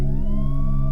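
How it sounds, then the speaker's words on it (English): A loud wailing police siren holds a steady, sustained tone with rich harmonics and a slowly rising pitch, heard alone and close. "I hear the sirens."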